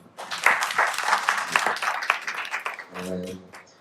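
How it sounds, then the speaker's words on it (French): Audience applause for panelists at a conference, a short burst of clapping that swells and then tapers off, with a voice speaking near the end. "Merci de les applaudir, vraiment."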